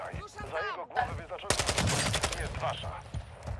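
Rapid automatic gunfire bursts out in a Call of Duty Modern Warfare II DMZ match, loud and continuous after a short stretch of game sound and voice.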